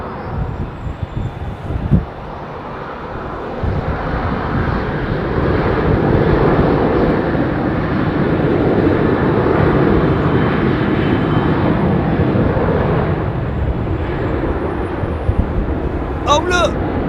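A Boeing 737-800 jet with CFM56 engines at London Heathrow gives a steady, loud broadband roar that holds for most of the stretch, with people talking over it.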